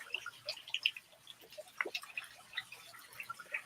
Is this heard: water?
yes